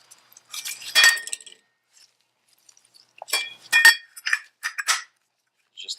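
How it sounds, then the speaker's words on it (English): A metal washer clinks against the primary rotor of a Harley Davidson motorcycle, two short bursts of light metallic tapping and rattling separated by quiet, close and crisp. "There's a washer that goes in here up against"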